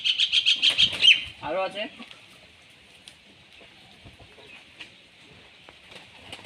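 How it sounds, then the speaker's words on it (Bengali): Pigeons for sale at a pigeon market coo and flutter in a quick burst of close calls, then fade to a faint steady hiss, with someone speaking briefly over them. "এই যে ফেস বিউটি মাদি পায়রা।"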